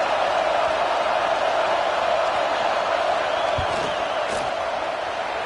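Stadium crowd at a Georgia versus Alabama college football game, roaring as a field goal unit lines up on fourth down: a loud, dense, continuous wash of crowd noise with faint whoops rising briefly.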